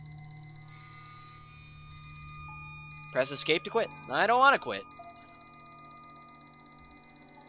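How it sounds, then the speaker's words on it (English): An alarm clock rings in the video game Sleepy Toaster as steady repeating electronic beeps that run through the whole stretch, with a person talking over the middle. "Or stay and listen to this level 2 alarm clock."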